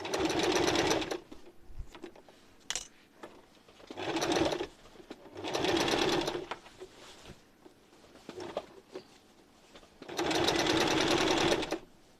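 A sewing machine stitches a skirt into a bag in four loud, close bursts of rapid mechanical chatter lasting about one to two seconds each. Quieter pauses with light handling noises fall between the runs.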